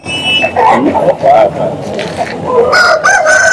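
A rooster of the Nuri breed crows at a weekly rooster and livestock market at Baireddipalli, the call sounding close and loud over busy crowd chatter and other birds, with people talking throughout.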